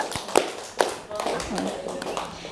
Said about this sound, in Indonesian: Kita kasih tepuk tangan untuk Bu Rina dengan Bu Ake